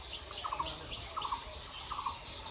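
Small birds behind a house near potato fields give three short, quick chirping trills at a moderate distance over a loud, pulsing airy hiss.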